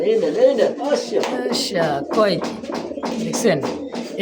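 An Iranian golla pigeon coos repeatedly in soft, throaty calls, close by. A person talks over the cooing throughout.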